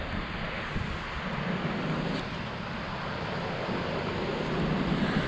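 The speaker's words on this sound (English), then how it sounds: "but there is a lot of noise from the sea." Steady, continuous roar of sea surf on a shingle beach at Silecroft, with broadband wash and some wind rumble, fairly loud and unbroken throughout.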